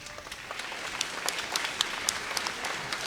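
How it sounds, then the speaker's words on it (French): Audience applauding at an E.G.R. Orchestra concert celebrating Black History Month in Canada: a steady wash of many hands clapping at moderate distance, with sharper individual claps popping out, no voices. "Est-ce qu'on peut applaudir, s'il vous plaît?"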